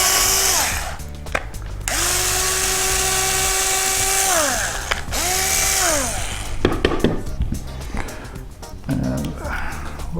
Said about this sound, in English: we'll drill that through